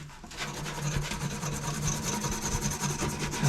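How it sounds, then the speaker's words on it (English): Wire wool scrubbing rust off a pair of old pliers, a continuous close abrasive rasp with quick back-and-forth strokes, steady and unaccompanied by speech. "we'll take them out and rub them with a bit of wire wool and just see how much of this rust we can get off"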